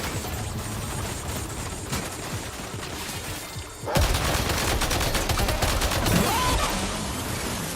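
Heavy gunfire in Death Stranding 2 on PS5 Pro, a steady rattle of many shots that swells into a louder, denser barrage midway through, with a faint voice underneath.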